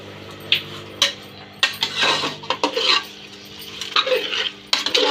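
A spoon clanks and scrapes in a pot of mutton curry gravy as it is stirred, with several distinct sharp metallic knocks amid thick, sticky mixing sounds, close up and without speech.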